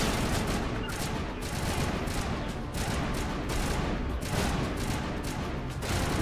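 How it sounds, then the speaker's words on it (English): Sustained, dense gunfire rattles nonstop in a Mass Effect Legendary Edition firefight, with overlapping shots and blasts filling the whole stretch. "What are you guys shooting at?"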